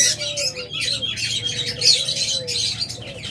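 A pair of pet orange-hat lovebirds for sale, with repeated shrill squawks and chirps in close, busy bursts over a low background hum, no talk.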